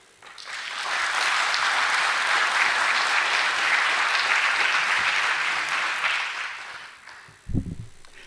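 Audience applause at a school district State of the District evening event, a steady roar of clapping that swells in, holds for several seconds, then fades out, followed by a single brief thump near the end.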